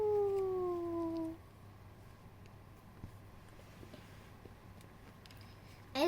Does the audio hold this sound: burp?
no